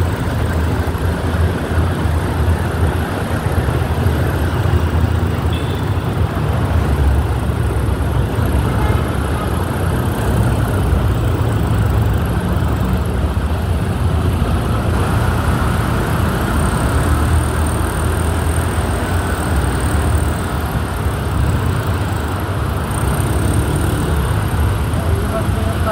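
Heavy road traffic heading toward Santa Mesa in Quezon City, a continuous low rumble of engines and tire noise heard from inside a vehicle, steady throughout with voices talking over it.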